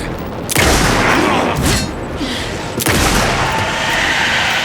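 Loud bursts of Alan Wake 2 gunfire, three heavy volleys booming in quick succession with a rumbling wash of noise between them.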